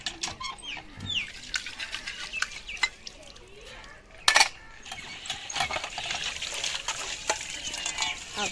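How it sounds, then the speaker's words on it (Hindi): Washed dishes being rinsed with water in a Pakistani village home, with splashing, trickling and clinking of pots at close range, including a sharp clatter midway, and faint background voices. "पहले तो साबुन से मांजे जा रहे थे, अब पानी से इसे अघा ले जा रहे हैं।"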